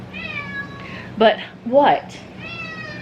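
A house cat meows repeatedly, close and clear, with a couple of short sharp cries standing out amid a brief spoken question.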